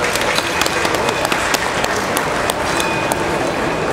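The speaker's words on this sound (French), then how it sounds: "Tous nos applaudissements à cette jeune éleveuse." A crowd at a cattle show applauds a young breeder with loud, sustained clapping that carries steadily throughout, with dense individual claps close by.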